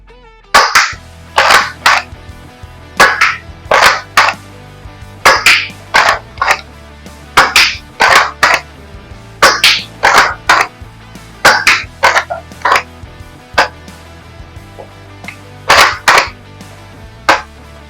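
A Nerf Slingshot blaster fires darts at a target in a long series of sharp snapping shots, some in quick pairs, some spaced apart, loud and close with brief pauses between.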